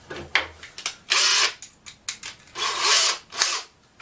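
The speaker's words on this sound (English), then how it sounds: "I'm going to drill these screws in" A power drill drives screws into wood while building a homemade gymnastics bar, heard as several close, loud whirring bursts of varying length with short pauses and small clicks between them.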